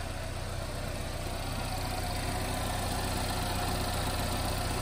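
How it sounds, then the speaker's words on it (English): A 2015 GMC Terrain with a 2.4-liter engine, front-wheel drive and 68,000 miles idles steadily, a smooth continuous hum with faint rhythmic ticking and no talking. "Engine runs nice"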